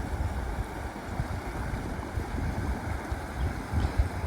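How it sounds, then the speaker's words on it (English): A small waterfall near a campsite on the Jatbula Trail, heard as a steady, rushing broadband roar of falling water with low rumbling texture, close by and continuous, with no voices over it. "This little waterfall's about 200 metres from camp."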